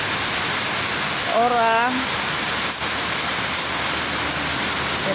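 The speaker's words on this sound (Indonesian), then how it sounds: "Hujannya deras banget lagi." Heavy rain pours steadily in Subulussalam city, a dense close hiss heard from shelter in front of a house, with a brief voice calling out partway through.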